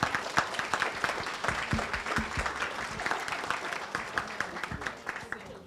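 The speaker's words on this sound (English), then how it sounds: "Let's give him a big round of applause." An audience at an annual club dinner applauds, dense sustained clapping from many hands, loud and close, tapering slightly at the end.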